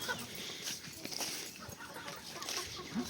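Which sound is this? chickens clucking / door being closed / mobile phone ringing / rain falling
chickens clucking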